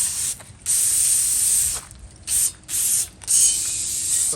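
Aerosol paint sprayed onto metal engine parts of a Ford Mustang, oil pan and motor: loud hissing bursts in several spray passes separated by short gaps, close to the can.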